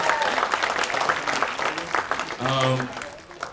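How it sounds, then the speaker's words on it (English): Morning audience applause at a panel event on getting a first job. Steady, fairly close clapping runs throughout, and a voice briefly speaks over it just past the midpoint. "Another round of applause, please, for Rose and Robin"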